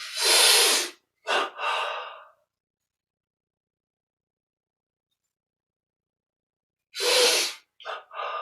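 Deep inhalations during a breathing meditation, several strong close breaths in short bursts at the start and again near the end, with long silence between.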